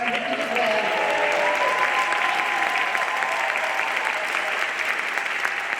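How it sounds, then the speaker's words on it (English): An audience gives sustained, even applause at a university convocation, honoring a professor of the year, a dense wash of clapping with a faint voice early on. "Please stand and accept our hearty applause and congratulations."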